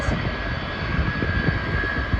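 Jet airliner engine noise at Schiphol airport, a steady broadband roar with a thin high whine running throughout, loud and continuous with no voices.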